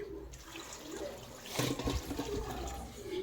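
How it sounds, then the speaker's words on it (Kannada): Water is poured from a vessel into a pressure cooker holding chopped raw papaya, a brief splashing gush that swells midway and settles, heard up close and quiet. "ಈಗ ನೀರು ಹಾಕೊತ ಇದ್ದೀನಿ"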